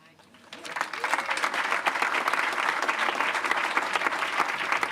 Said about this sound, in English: let's give another round of applause for all these folks that are making a commitment